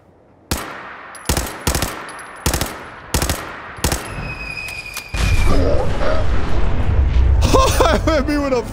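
A Fat Man launcher blast in Fallout 4 hits the player with a sudden loud explosion, followed by a long, roaring rumble and debris, after a run of sharp rhythmic gunshots, with a voice briefly exclaiming at the end.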